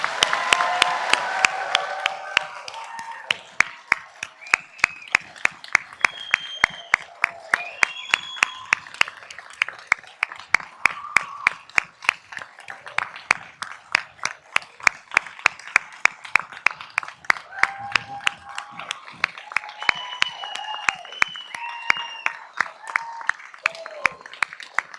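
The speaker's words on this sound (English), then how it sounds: "join me in a big round of applause for the amazing graduates of" Audience applause for 2022 graduates at a fall convocation, many hands clapping in a crowded hall while sharp, regular claps from a nearby individual stand out over the steady wash, lasting about twenty-five seconds.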